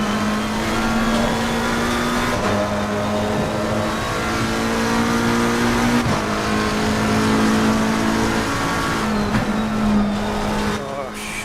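A McLaren race car screams around Silverstone in Assetto Corsa Competizione, its engine droning steadily loud and close while the pitch climbs and drops through gear changes, with no one talking.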